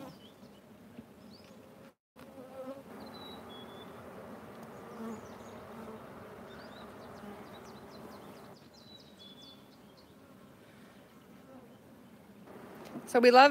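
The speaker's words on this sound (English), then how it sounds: "So Mandy's hive were builder hive last year, so we love to see that they're building." Honey bees buzz steadily at an open hive, a close, continuous drone that holds for the whole stretch and thickens briefly near the end.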